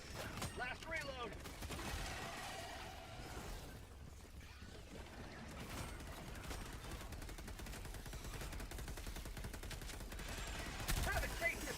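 Gunfire from the video game Helldivers 2. Rapid, continuous automatic shots rattle through a dense battle mix, faint and low in level, with voices talking over the shooting.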